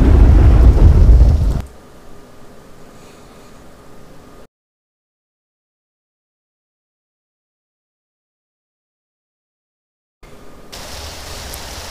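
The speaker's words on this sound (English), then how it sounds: "there's our thunder with the lightning effect" Thunder with rain in a Counter-Strike map built in the Hammer editor: a loud rumbling crash at the start, then quieter steady rain hiss, a long silent gap, and the rain hiss returning near the end.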